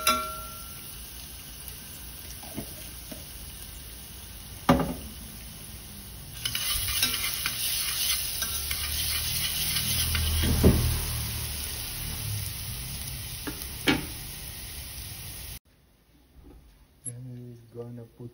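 Garlic fries and gets stirred in a pan with a soft, steady sizzle that swells midway and carries occasional metal scrapes, then cuts off. Voices talk near the end.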